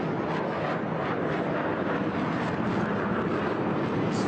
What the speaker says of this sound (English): So coming round for the next manoeuvre, the Tejas.